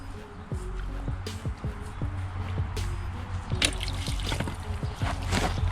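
Water drips and trickles out of an engine just pulled from a pond, irregular close-up splashes and dribbles over a steady low background rumble.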